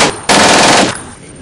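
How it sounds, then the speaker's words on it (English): A gunfire sound effect played during a tabletop role-playing game, a single loud, dense burst of rapid automatic fire lasting just over half a second, then cutting off into quiet room tone. "the PI fires and misses"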